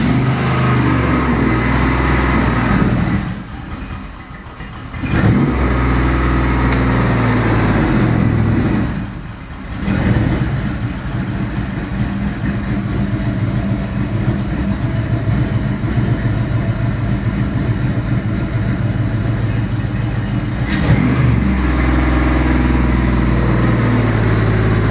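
A Chevy 5.3L LS Vortec V8 engine, started cold on a test stand, runs loud and close with a steady roar, dipping twice early before holding a continuous high drone.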